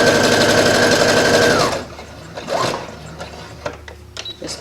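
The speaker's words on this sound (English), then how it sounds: "I'm going to put my gathering stitches between these notches right here." Sewing machine stitching gathering rows on fabric, a fast loud mechanical whir close by for about a second and a half, then stopping, followed by soft handling clicks and rustles.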